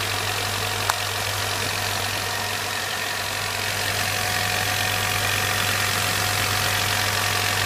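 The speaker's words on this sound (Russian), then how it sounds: "двигатель мягенько работает, но его трясет" A 2006 Kia Picanto engine idles steadily with a low, even hum and faint vibration, running smoothly but shaking, one small click early on.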